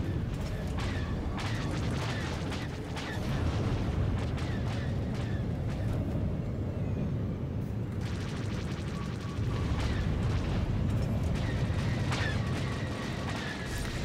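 Video game combat from Sting: blasters and missiles pound a gunship in a dense, continuous rumble of booms and mechanical firing, loud and steady with brief lulls.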